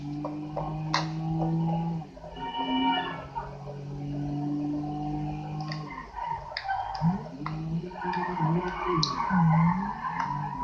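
Car drifting in a video game, tyres squealing in long wavering skids that rise and fall over engine drone, with a few clicks scattered throughout.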